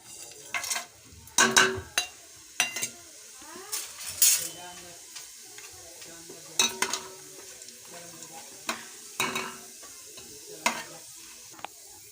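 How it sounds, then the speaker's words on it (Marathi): Bay leaf and whole spices tossed into hot oil, spitting in short sizzling bursts while a spoon clinks and scrapes against the pan at irregular intervals, close by. "तेल गरम झालं की तेजपत्ता टाकायचा"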